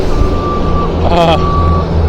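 A tractor's reversing beeper sounds in a steady repeated tone over loud engine rumble, with a brief burst of other noise midway.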